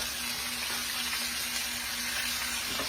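Pot roast browning with cut onions sautéing in oil around it, giving a close, even, continuous sizzle with a faint steady hum beneath and no talk.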